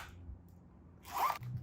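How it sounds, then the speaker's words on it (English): A quick zip runs along a black caviar leather Shebag Medium Classic Flap handbag, one short bright rasp close to the mic, followed by a soft handling thud in a quiet room. "This is how the zip sounds."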